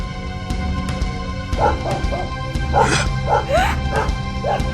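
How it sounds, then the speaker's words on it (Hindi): A cartoon dog in an animated children's fairy tale barks and yips in a quick series of sharp, close calls over a steady low musical backing. "अब तुम भौंको और मेरे पीछे दौड़ो"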